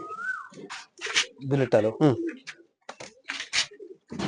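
A pet pigeon coos in a soft throaty burst partway through, heard under and between a man's continuous nearby speech.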